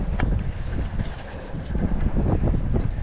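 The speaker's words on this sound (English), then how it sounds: "The wind's picking up." Steady gusty wind buffets an open beach for about three seconds, a loud continuous rush with brief lulls and low rumbling gusts, no voices.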